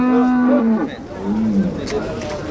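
Cattle at a dairy cow fair in Capoeiras, Pernambuco give a loud, close, drawn-out moo followed by a second lower moo, with crowd murmur and ambient noise around them.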